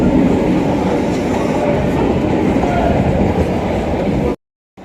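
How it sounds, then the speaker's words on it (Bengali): A local commuter train rolls into a station with a loud, steady rumble of wheels on rails and wagon clatter, ending abruptly. "যথারীতি ট্রেন ঢুকে যাচ্ছে।"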